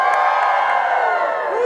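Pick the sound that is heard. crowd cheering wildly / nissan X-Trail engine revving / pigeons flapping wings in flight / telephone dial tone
crowd cheering wildly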